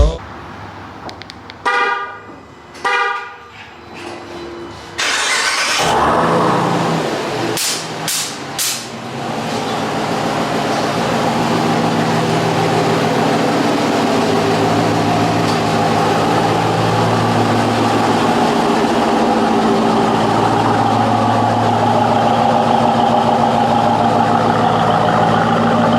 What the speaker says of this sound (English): this is a 2020 Jeep Grand Cherokee Trackhawk